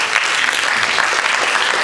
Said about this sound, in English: So you really deserve this applause.